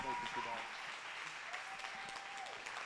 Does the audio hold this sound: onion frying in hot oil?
no